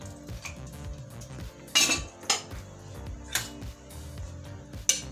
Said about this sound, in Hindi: तो चलिए, कुकर खोल लेते हैं और सूप चेक कर लेते हैं।